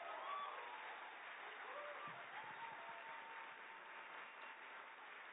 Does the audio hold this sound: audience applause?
yes